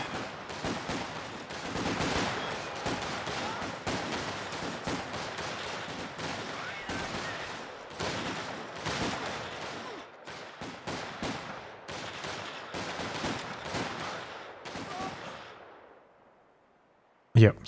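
Close-range infantry gunfire in Company of Heroes 2, with Grenadiers fighting bolstered infantry sections: dense, overlapping bursts of rifle and machine-gun fire, loud and nearly continuous for about sixteen seconds before cutting off into near silence.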